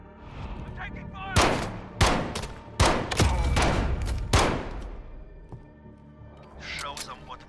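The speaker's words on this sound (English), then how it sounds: "We're taking fire!" Gunfire in Call of Duty: Modern Warfare: several loud, sharp shots and bursts roughly a second apart over a constant battlefield din, with voices talking underneath and distant rattling fire toward the end.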